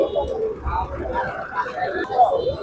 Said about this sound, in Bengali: বিভিন্ন আইটেম কবুতর আছে বিভিন্ন ধরনের কবুতর